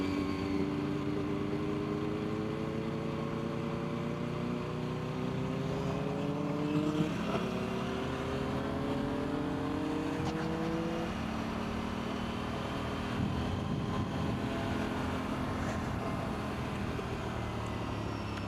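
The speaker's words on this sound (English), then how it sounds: "The Gixxer sounds so good." A Suzuki Gixxer motorcycle engine drones steadily with rising and falling pitch as it shifts through gears on a road ride in Ireland, wind noise throughout, no talking.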